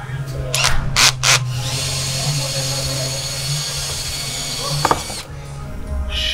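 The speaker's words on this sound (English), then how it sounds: "You got to drill the holes?" A power drill whirs steadily for several seconds while drilling holes for a Range Rover widebody kit, with a few sharp bursts at the start and near the end before it stops.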